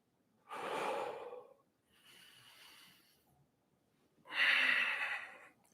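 Breathing during a reformer Pilates workout: three separate breaths close to the mic, the first and last loud, forceful exhales and a softer breath between them, with silence in the gaps.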